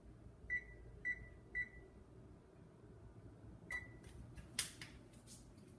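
A kitchen oven beeping as it is set to preheat: three short, evenly spaced electronic beeps, then a fourth after a pause and a final click, all fairly quiet in a calm room.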